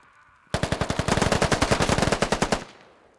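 Rapid automatic gunfire in a video-game firefight, a dense burst of about two dozen sharp shots in quick rhythm lasting around two seconds, then cut off into quiet.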